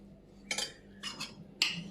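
Metal serving utensils clink against plates as rice, sambar, pachadi, okra and chicken curry are dished out for guests. Three distinct, bright clinks land in under two seconds, near and clear, over a faint background hum.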